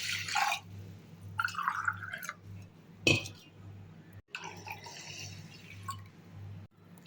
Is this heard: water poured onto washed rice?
yes